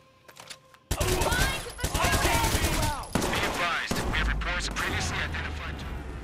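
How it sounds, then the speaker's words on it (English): Rapid assault rifle gunfire in the game Watch Dogs 2, dense loud bursts of shots layered with chaotic in-game sound effects, starting abruptly after a short quiet lead-in and continuing to the end. "3 shots and I'm dead. With an assault rifle, but how?"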